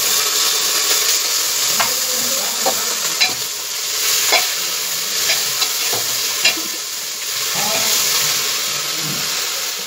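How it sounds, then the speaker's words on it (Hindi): Onion, eggplant and potato fry in a pressure cooker with a steady close sizzle and hiss, broken by several scraping stirs, no voices heard. "देखिए प्याज भी अच्छी तरह भुना गया है, इसमें भंटा डालेंगे, आलू भी डाल देंगे।"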